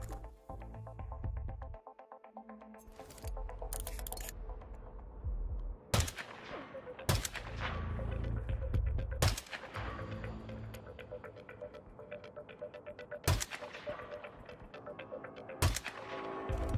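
Sniper rifle fire in Hitman 2 on the Hantu Port map: a handful of sharp, loud, echoing cracks spaced several seconds apart, some closely paired, over a steady low game-ambience rumble with no talking.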